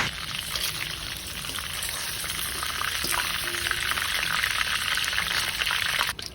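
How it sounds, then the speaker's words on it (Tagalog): Marinated pork liver frying in a pan of oil for Batangas lomi gives a steady, close sizzle and crackle that runs the whole time, with a few faint clinks and no talking. "pinirito na natin ang ating atay pagkatapos natin i-marinate na siguro mga 30 minutes"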